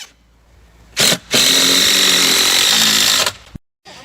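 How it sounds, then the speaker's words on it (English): A power screwdriver drives screws through insulated dog house panels into the foundation, with a brief close whir, a short pause, then a loud sustained two-second run before stopping abruptly. "we're basically just putting these panels together and then screwing them along the bottom so they're all screwed into the foundation"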